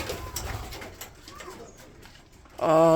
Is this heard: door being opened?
no